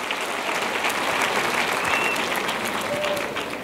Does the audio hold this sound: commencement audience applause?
yes